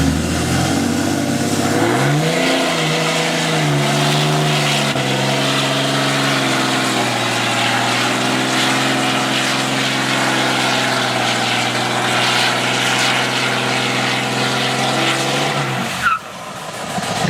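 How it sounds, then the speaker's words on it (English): A Cummins diesel truck does a burnout on wet pavement, its engine roaring and climbing in pitch as the tires spin and squeal for about fifteen seconds before cutting off with a sharp thump. "don't complain, you guys are getting a burnout"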